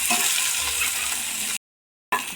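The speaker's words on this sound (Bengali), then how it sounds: "পেঁয়াজগুলো ভাজা হয়ে গেছে" Chopped onions and green chillies fry in a pan, giving a steady, close hiss of sizzling oil that cuts out briefly to silence before resuming.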